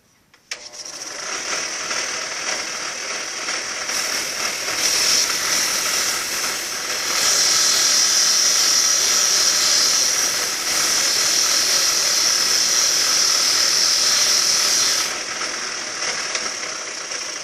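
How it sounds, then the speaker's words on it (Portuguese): A thin MDF wood stick is power-sanded down to a parallel 2 mm thickness, giving a steady, loud whirring grind that runs almost unbroken from start to finish, with slight swells in intensity along the way. "Eu vou mostrar como é fácil de lixar esse palito para ficar paralelo com 2 milímetros."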